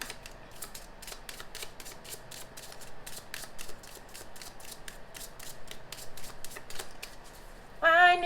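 Tarot cards being shuffled by hand, a long run of quick, crisp riffling snaps in a steady rhythm, close and fairly loud, ending with a brief squeaky noise.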